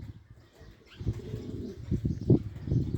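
Pigeons flap their wings in a few soft bursts as they come in to land, with faint rustling between the flutters close by.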